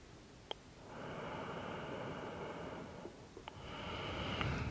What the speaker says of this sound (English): Breathing deeply and slowly here.